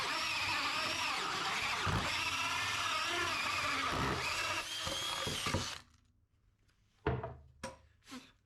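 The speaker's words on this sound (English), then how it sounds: "Put the drill bit right in the center." A power drill whirs loudly and continuously while boring for about six seconds, then stops, followed by a few sharp knocks and clunks.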